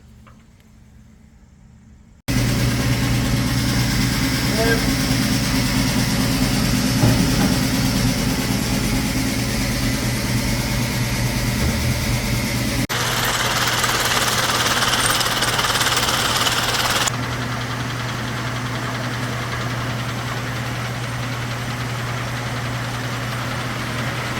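Rock saw cutting through uncut Kentucky agate nodules, a steady loud mechanical drone with a constant motor hum that runs unbroken for the whole stretch, changing tone partway through as the blade bites.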